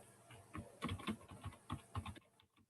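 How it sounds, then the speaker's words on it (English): Someone types on a computer keyboard, a quiet run of uneven key clicks and taps with small bursts and gaps, ending in near silence. "I'm going to type it here"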